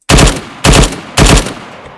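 Vehicle-mounted machine gun in the Arma 3 video game firing three loud, close bursts, each about half a second of rapid shots, separated by short pauses and trailing into a lingering echo.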